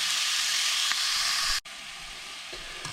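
Beef for chili colorado sears in a hot pan with a loud, steady sizzle and hiss, briefly cut off and then resuming slightly softer, close up with no talk.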